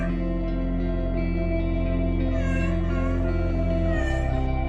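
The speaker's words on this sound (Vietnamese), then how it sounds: "liên tục kêu meo meo để dành hết mọi sự chú ý về mình" A sick cat meows repeatedly while being cared for, its cries rising over a loud, steady background of layered music tones that runs throughout.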